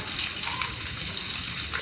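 Water gushes from a tap in a steady, loud stream as fish is rinsed under it, a continuous splashing rush with no voices.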